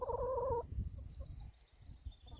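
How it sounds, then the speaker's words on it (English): A pet hen in a home garden gives a short burst of loud, close clucking calls at the start, followed by quieter outdoor background. "You's a funny chicken."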